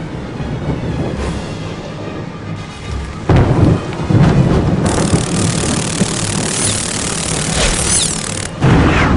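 Rolling thunder with steady heavy rain in a stormy outdoor scene of the Harry Potter and the Prisoner of Azkaban video game, with loud cracks and rumbles breaking over the downpour before it eases and swells again.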